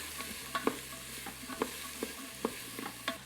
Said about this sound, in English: we have a tablespoon of minced garlic. You can add a little bit of oil if needed. Saute these for a little bit.